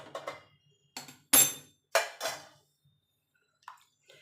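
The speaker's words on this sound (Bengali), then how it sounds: "এবার দিয়ে দেবো গরম জল" Hot water is poured into cooked dal for a sour green-mango dal. It comes as short splashing bursts with clinks of a pot, separated by pauses of near silence.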